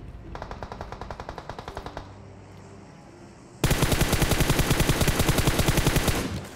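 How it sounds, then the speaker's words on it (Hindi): Automatic gunfire in the mobile battle royale game BGMI rattles in rapid bursts, a moderate burst first, a short pause, then a much louder sustained stream of fast shots close by. "हमारे एक टीममेट पर गोलियां चलती हैं"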